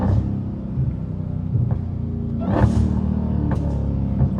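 A Dodge Hellcat with a catless exhaust rumbles low and heavy from inside the cabin while driving, with a few short throttle blips and surges over a steady drone, no talk.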